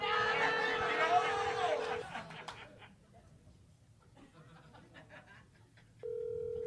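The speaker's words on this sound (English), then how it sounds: "Oh, my phone is ringing." Phone ringing in a studio, a steady electronic tone held for about two seconds with laughter and voices over it, a quiet pause, then the tone starting again.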